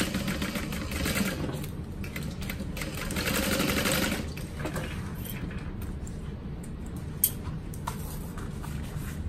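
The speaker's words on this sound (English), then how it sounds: "And sew across the top." Sewing machine running a line of stitching across the top of a fabric crossbody bag, a steady close mechanical whir with a denser burst in the first few seconds, then slower, and no talking.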